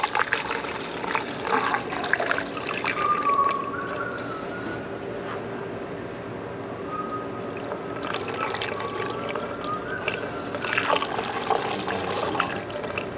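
Coolant runs from a BMW 135 engine in a steady trickling, splashing stream, with a car and faint background activity beneath it.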